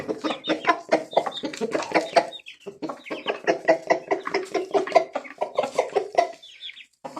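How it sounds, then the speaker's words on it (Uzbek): A large rooster of about five kilograms clucks in rapid, rhythmic bursts, close and fairly loud, with a short pause midway before the clucking resumes. "5 kiloni atrofida katta xo'roz."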